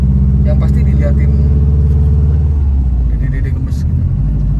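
A Subaru Impreza WRX turbo with its boxer engine rumbling loudly and steadily up close, a deep continuous drone with a slight shift in pitch, while people talk over it.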